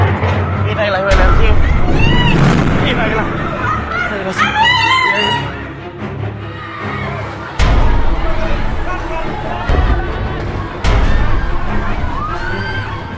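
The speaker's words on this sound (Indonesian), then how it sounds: "Kebakaran disertai ledakan tersebut terjadi sekitar pukul 20:11" Explosions boom during the fire at the Pertamina Plumpang fuel depot in Koja, North Jakarta, at night: several sudden loud blasts, each followed by excited crowd voices, shouting and chatter.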